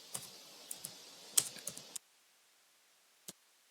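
Someone types Arduino code on a computer keyboard with a quick burst of soft, close key clicks, then a pause and one final keystroke in a quiet room.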